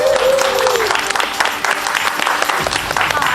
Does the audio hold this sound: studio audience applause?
yes